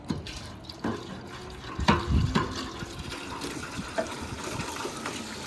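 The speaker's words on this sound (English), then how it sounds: "And look at the water go." Water gushes and splashes steadily from a cleared blocked gutter, with a few louder sloshing bursts, fairly close, with no talking.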